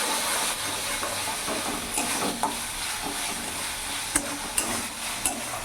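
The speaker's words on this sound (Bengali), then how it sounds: "ভালো করে মিশিয়ে নেব। দেখতে পাচ্ছ মশলা থেকে তেলও ছেড়ে দিয়েছে।" Spice paste for a Bengali pabda fish curry stirred as it fries in hot oil, a steady close sizzle and hiss with soft scraping strokes of the spoon and a few sharper clinks against the pan.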